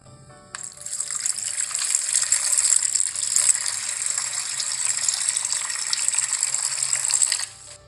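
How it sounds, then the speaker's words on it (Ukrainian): Water poured in one steady, hissing stream for about seven seconds, close and fairly loud, starting and stopping abruptly. "тільки що я наливала воду"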